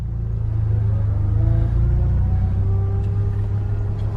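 A manual-transmission car engine rumbling low and steady in reverse with a little throttle, a near, continuous idle-to-light rev with no talk over it.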